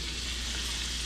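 Frog legs sizzle steadily in hot frying oil, a dense, even crackle that holds close and loud from start to finish with no voices.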